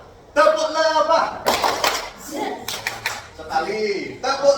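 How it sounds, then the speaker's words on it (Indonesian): Schoolchildren in an elementary classroom perform a rhythmic hand-clapping routine, with sharp bursts of group claps broken up by a teacher and children chanting aloud between them. "tepuk lebah 3 kali"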